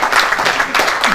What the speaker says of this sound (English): Please, can we all give her a round of applause?